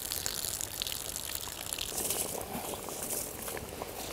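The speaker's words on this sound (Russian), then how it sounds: "Лишнюю воду с риса я сливаю." Excess water poured off rice for Fergana-style plov cooked in a kazan, a steady broadband gushing and splashing that runs continuously for about four seconds, fairly close and with no talk.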